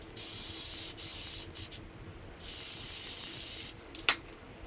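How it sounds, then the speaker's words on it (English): Aerosol oil sprayed onto a Kawasaki KLX 230 ABS foam air filter in repeated hissing bursts, several long sprays separated by brief pauses and a couple of quick short puffs, close and steady. "And spray one more time."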